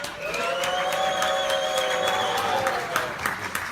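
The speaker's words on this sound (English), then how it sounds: "to make some noise, please, just so that I can see how much of what you're doing reaches our noise sensor" A demo audience makes loud noise on cue, with sustained clapping, cheering and crowd din close by, sharp individual claps popping out through the steady roar.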